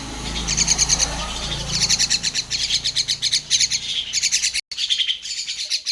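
Small birds chirping inside a bathroom, rapid repeated high tweets in bursts close by, with a faint low hum underneath.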